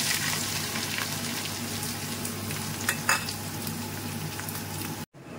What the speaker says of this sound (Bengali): পেঁয়াজটা ছেড়ে দিচ্ছি